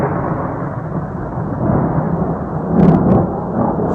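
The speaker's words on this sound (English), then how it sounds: "A pretty unusual event when a winter snowfall brings the thunder." Thunder rolls during a winter snowstorm in Massachusetts and Connecticut, a loud, sustained low rumble that swells slightly toward the end with no other sounds over it.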